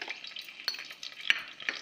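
Curry leaves crackle faintly in hot tempering oil with cumin, mustard seeds and chana dal, a quiet continuous sizzle punctuated by a few sharp pops and spoon taps.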